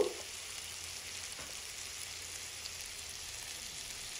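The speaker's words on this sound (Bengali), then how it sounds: "আর আমি ভাজছি সেটা অলিভ অয়েলের মধ্যে" Quiet, steady sizzling of chicken frying in olive oil, a soft continuous crackle with no talking.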